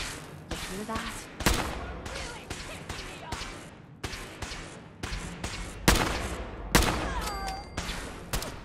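Rapid gunfire in the video game Fallout 4, with sharp shots cracking in bursts and single reports spread across the clip, some louder and closer than others, over other game sounds.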